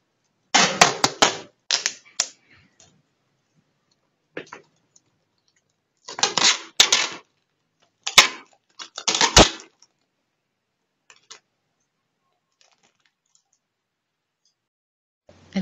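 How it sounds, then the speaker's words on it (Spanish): Adhesive tape pulled from the roll and pressed around cut plastic bottles, heard as close, loud bursts of crackly ripping in several short runs with quiet gaps and a few faint taps. "Unimos con la cinta adhesiva."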